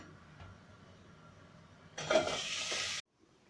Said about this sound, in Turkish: Geri kalan patateslerimi de kızartacağım.